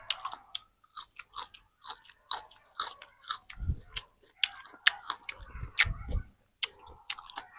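Close, crisp crunching and chewing of grilled squid, bursts of crunch repeating in an uneven rhythm with a few mouth clicks, no talking.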